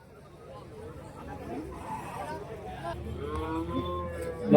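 Dairy and pregnant cows at the Karimangalam cattle market in Dharmapuri low and moo amid the market bustle, with a deeper moo swelling toward the end and people talking nearby.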